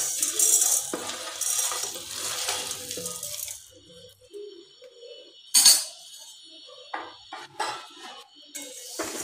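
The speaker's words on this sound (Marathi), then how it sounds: "सर्व आता आपण गॅसवर कढई ठेवलेली आहे, त्यामध्ये हे सर्व मसाले एकत्र टाकूया।" Whole chai masala spices tipped into a kadai on a gas stove, giving a few bright clinking, rattling clatters of dry pieces hitting metal, close and fairly loud, then quieter scattered ticks and shuffling.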